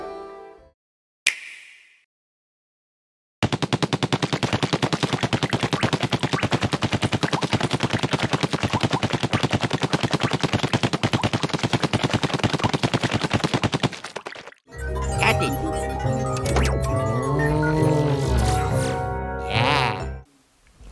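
Splatoon ink weapons firing in the video game: a rapid, loud, continuous stream of splattering shots for about eleven seconds, then a burst of bright squishy effects and jingles.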